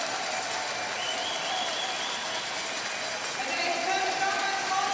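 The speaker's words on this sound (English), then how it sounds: "The crowd are getting behind him" A velodrome crowd cheers and applauds without pause for Rohan Dennis near the end of his 2015 hour record attempt, a dense, even roar of clapping and shouting that carries on throughout.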